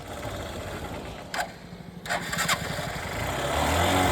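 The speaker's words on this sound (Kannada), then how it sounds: "ಈಗ ನೋಡಿ ಸ್ಟಾ ಚಾಲು ಮಾಡಿ ಚಾಲು ಮಾಡಿ" A motorcycle running low on petrol is cranked to start, with a couple of short bursts of clatter and a weak, sputtering engine note underneath, quiet and close.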